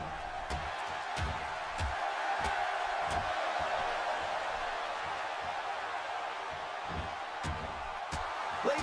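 A wrestling video game crowd cheers in an arena, a dense, steady roar with scattered claps and whoops sustained throughout, fairly loud and without clear speech.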